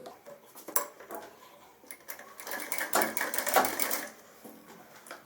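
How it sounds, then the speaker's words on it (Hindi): A sewing machine stitches shirt fabric in short bursts of clattering, rapid needle chatter with light metallic clicks, close up and moderately loud. "अब हम ये सिलाई लगाएंगे।"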